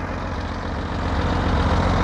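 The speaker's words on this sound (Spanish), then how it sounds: "Un tractor va a empujar." A tractor engine works at a watermelon harvest, a steady, rumbling low drone that builds slightly as it pushes, continuous and fairly close with no talk.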